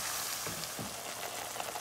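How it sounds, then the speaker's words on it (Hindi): A green masala paste of coriander, green chili and ginger-garlic fries in a pan over a medium flame, giving a steady, close, dense sizzle with no talk. "अब इसको 6-7 मिनट भून कर फिर मैं चिकन को शामिल करूँगी"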